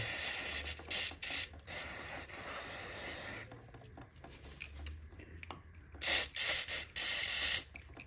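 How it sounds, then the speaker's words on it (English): Bursts of hissing brake cleaner aerosol spray into a Honda CG125 centrifugal oil filter housing, several short blasts and longer sprays with quiet mechanical handling between, close by and with no talking. "I'm just going to use some brake cleaner to spray all up in here."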